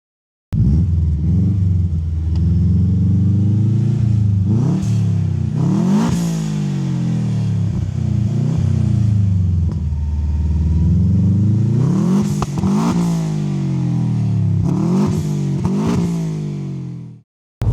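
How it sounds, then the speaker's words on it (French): The flat-four engine of a Subaru Impreza with 212,000 km on it starts, then revs repeatedly from a loud, close, rumbling idle with rising and falling sweeps, before cutting off at the end. "tu nous démarres la voiture et que tu nous fasses 2-3 accélérations et puis voir un petit peu la sonorité, la fameuse sonorité du 4 cylindres à plat"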